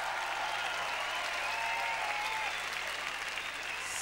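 A concert audience at the 2000 Pop Finlandia show applauds a singer, a dense, continuous wash of many hands clapping at moderate distance, with faint cheering woven through.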